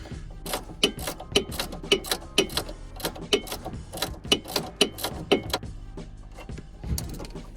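A ratchet wrench clicks in quick repeated bursts while working a seized drop link nut on an Alfa Romeo Giulietta, close and fairly loud, with sharp rhythmic ticks and short pauses between strokes.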